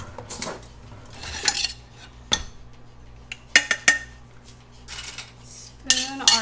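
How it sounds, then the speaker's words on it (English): A spoon scrapes and clinks against a plate while French onion cream sauce is scooped over pork medallions and Brussels sprouts, producing scattered sharp metallic taps and scrapes amid quiet kitchen background. "spoon our French onion cream sauce right on top"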